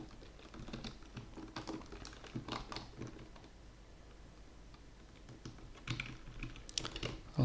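Steady typing on a computer keyboard while coding in a game engine, clustered keystrokes in quick bursts with short pauses, close and clear with no talk.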